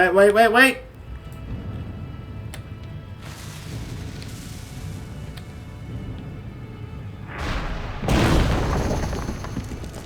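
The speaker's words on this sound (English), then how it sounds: "Oh, that was some explosion!" A wall blown apart by an explosion in World of Warcraft, a loud broadband blast that swells near the end of the clip over a rumbling game soundtrack, following a brief burst of voice at the start.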